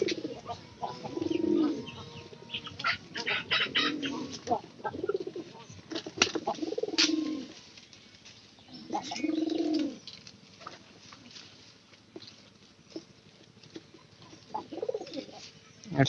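Pigeons coo indoors in a home loft where chicks are kept, with several soft, low, rolling coos in separate bursts, mixed with faint clicks, rustling and light background voices.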